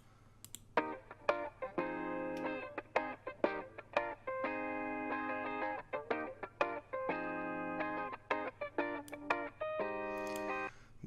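Chopped guitar sample for a lofi hip hop beat plays as short plucked chord stabs in a choppy, rhythmic pattern, with clean tonal notes separated by brief gaps, fairly quiet and alone.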